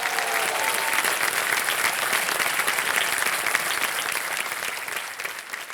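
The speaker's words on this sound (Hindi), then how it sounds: "तालियां बज जाएं चैतन्य जी के लिए।" A studio audience on a televised quiz show applauds loudly and steadily, a dense sustained wash of clapping that continues for several seconds before easing slightly at the end.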